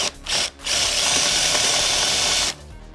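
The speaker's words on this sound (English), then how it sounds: "I'm just going to drill out the rivets that hold that bracket in place" A power drill bores out rivets on a car's airbox bracket, loud and close, with a short burst, a brief pause, then one sustained high whine before stopping.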